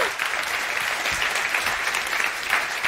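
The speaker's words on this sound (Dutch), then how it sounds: "Ook applaus voor u." An audience at an Amsterdam sports debate between party list leaders bursts into sustained applause, a dense, even wash of many hands clapping that fills the room for a few seconds.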